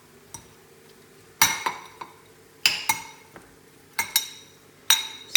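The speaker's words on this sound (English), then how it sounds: "Mix this all up." Spoon clinking against a bowl in short bursts while a salad is mixed with Trader Joe's taco seasoning and crushed chili peppers, scraping strokes spaced about a second apart and close by.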